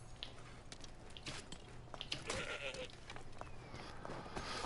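A goat in the video game Assassin's Creed Origins bleats a few times. The calls are fairly close and rise over a steady bed of in-game ambience and rustling.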